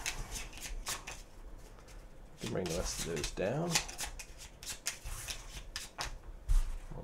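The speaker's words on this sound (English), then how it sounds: "So I'll shuffle these up" Playing cards shuffled by hand for the Yamatai board game, a run of quick riffling bursts and rubs close up, with a person briefly talking partway through.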